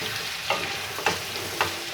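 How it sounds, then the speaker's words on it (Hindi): Tomatoes and potatoes fry in a pan while a spoon stirs them. Three distinct scraping strokes land about half a second apart over a soft, steady sizzle, with no voices. "आप टमाटर्स को भी अच्छे तरीके से आलूओं के साथ मिक्स करें, भूनें।"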